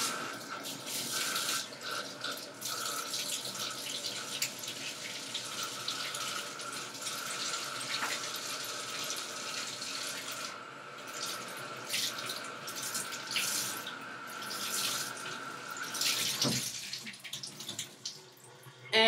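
A tap runs steadily at a sink while a cleansing brush is rinsed under it, a close, continuous hiss of flowing water with small splashes and shifts in the stream throughout.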